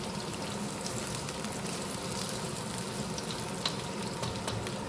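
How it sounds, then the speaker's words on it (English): Potatoes sautéing over medium heat in a pan for aloo tahari, a steady broadband sizzle with faint scraping, continuous and fairly close throughout with no talking. "Sauté potatoes for 5 minutes on medium heat."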